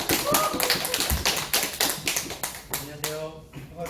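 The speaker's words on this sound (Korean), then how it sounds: "여러분들 대표님 오실 때 큰 박수 부탁드릴게요." An audience claps as a company representative is welcomed, the sharp, uneven claps standing near and loud, thinning out toward the end.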